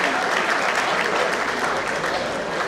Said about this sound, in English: let's give him a round of applause as he comes to talk about the unity of Isoko and Urhobo